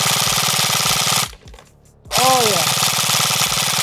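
A Zion Arms R15 M4 airsoft AEG fires in full auto, loud and close: a rapid, sharp, buzzing burst, a brief pause, then another fast burst, with a short spoken exclamation in between.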